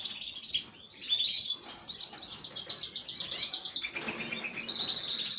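Canaries chirp and trill in a breeding aviary, bright rapid song phrases close by and fairly loud, continuous with no talking.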